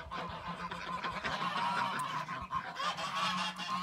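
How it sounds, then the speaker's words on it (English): Loud, continuous honking from a flock of geese, overlapping calls filling the whole stretch with no pauses. "it's almost hard to hear yourself think when you have the geese in the background"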